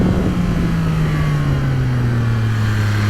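Engine of a 2024 Yamaha MT-09 SP motorcycle revving steadily and close, its pitch sliding gradually downward as the revs ease off, with no talking over it.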